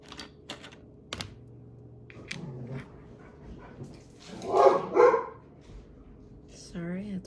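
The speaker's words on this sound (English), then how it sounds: "Sorry, that's my dogs." Dogs barking indoors in a home craft setting, a short cluster of barks around the middle, moderately near, with faint tapping and clicks before and a voice at the end.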